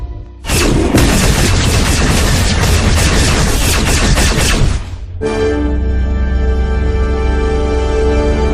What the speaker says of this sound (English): I want every gun we have to fire on those two